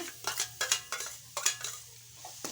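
A spoon scrapes and stirs jowar grits being roasted in a pan over a low gas flame, in quick irregular bursts of scraping close by with brief pauses between strokes.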